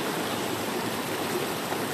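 Rushing stream running high after rain, a steady, dense broadband roar of water that stays loud and even throughout with no voices.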